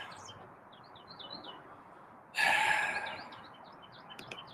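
Several small birds chirp and tweet in short, scattered calls against a steady outdoor background hum, with a brief louder rustling burst partway through.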